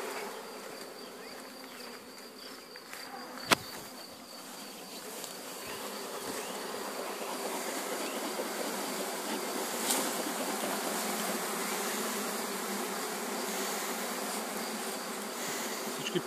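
A honey bee swarm hums outdoors as it is being captured, a dense, constant buzzing that fills the whole stretch without pause, close and fairly loud, with one sharp knock early on.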